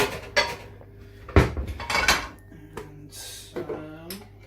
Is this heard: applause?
no